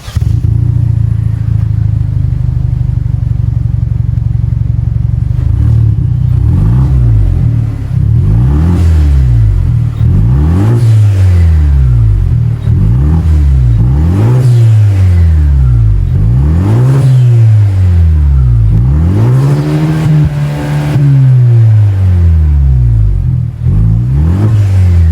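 A 2022 Kia Stinger GT-Line on its stock exhaust, mufflers deleted and Vibrant resonators fitted, idles steadily and then revs repeatedly in rising and falling sweeps, loud and close, with no talking.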